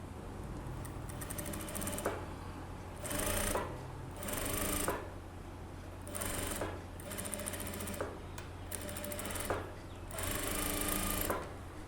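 A sewing machine stitches the lining of a blouse in repeated bursts of rapid mechanical clatter, each run lasting about a second with short pauses between, fairly close and with no talk.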